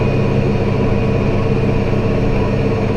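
A tractor engine runs in a steady, loud drone while mowing a hay field of tall orchard grass, with a constant low rumble and no break in the sound.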